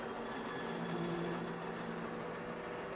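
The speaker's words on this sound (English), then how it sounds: "if I show you the other shot back here of the lathe in operation" A South Bend metal lathe takes a slow facing cut, giving a steady, even mechanical hum and whir that holds without a break, at a moderate level with no talk over it.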